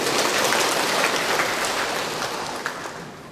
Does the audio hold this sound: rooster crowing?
no